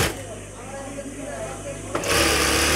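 A sewing machine stitching cloth for a boy's salwar, a steady close mechanical whir that runs throughout and swells louder near the end.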